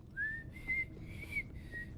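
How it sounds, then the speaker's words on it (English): A person whistles a short tune in a few sustained, sliding notes, fairly close and clear against a soft low background hum, with no talking. "Can't whistle today."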